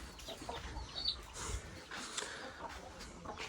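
Chickens on a farm cluck and chatter faintly at a distance, with a few soft calls scattered over low outdoor background noise.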